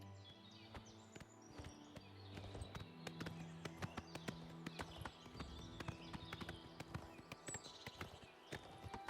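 Horse hooves clip-clop in a steady walking rhythm in the game Oblivion Remastered, crisp and close, with faint ambient tones and bird chirps behind.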